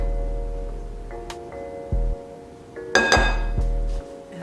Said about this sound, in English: I'm going to mix all of this up until it's uniform in consistency